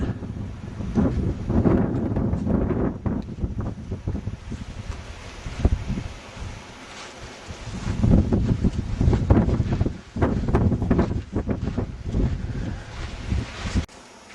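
Strong gusting wind at an old crater in the Ecuadorian Andes buffets the microphone in heavy roaring bursts, easing briefly before surging again, with no voices.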